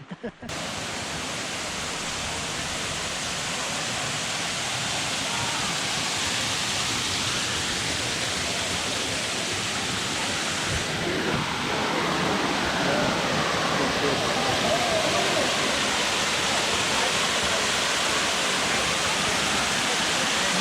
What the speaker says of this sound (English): Touch the waterfall?